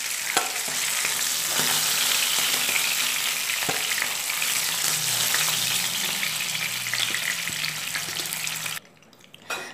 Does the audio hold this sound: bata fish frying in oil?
yes